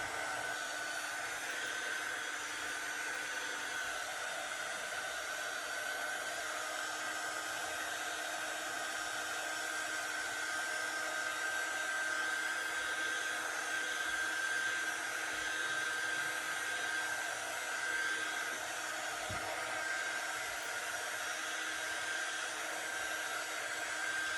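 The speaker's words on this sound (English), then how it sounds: "just take your little dryer or your blow dryer and just make sure that you dry this real good" A small blow dryer runs in one steady, loud, unbroken whir, drying chalk paint on a Christmas gnome or snowman craft, with no voices.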